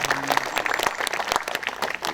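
Clapping from the audience at a May 18 memorial ceremony, an even wash of hands lasting about two seconds, moderately loud and unbroken by speech.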